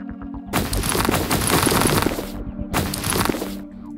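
Gunfire in the video game Gangland comes in two loud, harsh bursts of rapid crackling shots, with a short gap between them and a lower hum underneath.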